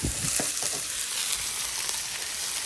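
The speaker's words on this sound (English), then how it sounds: "Basically what we're trying to do is get a good sear." A New York strip steak sears on a Blackstone griddle, giving a steady, close sizzle of hot fat with small pops and crackles and no voices.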